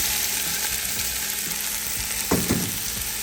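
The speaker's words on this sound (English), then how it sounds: "we're gonna add in our 2 large Spanish onions that I chopped" Two large chopped Spanish onions frying in olive oil in a saucepan give a steady close sizzle, with a few clattering stirs near the end.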